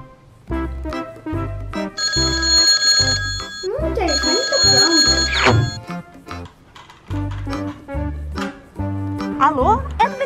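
A telephone rings while someone calls the vet about an abandoned puppy, its repeated tones sounding over a loud, bouncy music track with bass pulses and sliding effects.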